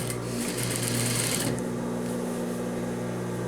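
Sewing machine stitching the side seam of a pleated skirt with a yoke, a steady close whir that holds through most of the moment.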